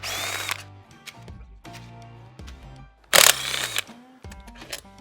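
A power tool, likely a drill or impact driver, spins out 1/4-inch bolts from the primary cover of a Harley-Davidson Milwaukee-Eight Road Glide. It whirs in several bursts with a sharp, louder rattle near the end, and no one speaks.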